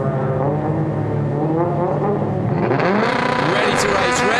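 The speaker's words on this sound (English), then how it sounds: "Ready to race. Revs are up." Rallycross cars holding high revs on the grid before a World Rallycross qualifying start in Catalunya, a loud sustained engine drone that climbs in pitch toward the launch, with a commentator talking over it throughout.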